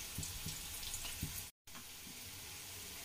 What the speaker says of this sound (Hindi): प्याज को भी हमें हल्के से सेकना है।